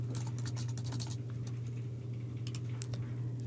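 Typing on a computer keyboard, a quick run of close, light key clicks in uneven bursts over a steady low hum.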